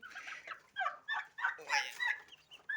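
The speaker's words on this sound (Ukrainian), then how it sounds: "У нас індики ручні." Turkeys gobble and cluck nearby in a run of short, rapid bursts, the calls coming one after another with little pause.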